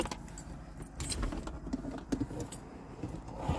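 A bunch of keys jangles close by in short rattling bursts during a roadside police stop, with a faint car rumble underneath.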